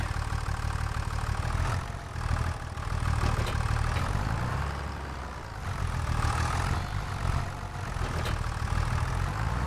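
Tractor engine idling in Farming Simulator, a low rumbling drone with a knocking throb that swells and fades gently throughout, steady and close with no talk.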